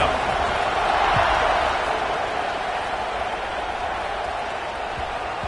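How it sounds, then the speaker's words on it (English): A football stadium crowd just before kickoff keeps up a steady, broad roar throughout, with a commentator talking over the noise. "this crowd now ready to get behind them"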